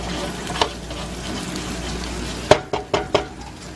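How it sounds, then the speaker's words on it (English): Beef sizzling in a pan over moderate heat, a steady close frying hiss punctuated by a few sharp clacks of a utensil stirring near the end. "And then this is the beef continuously cooking"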